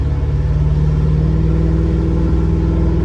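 A car engine runs steadily and loudly at close range, a deep continuous rumble with a throaty hum that holds without pause.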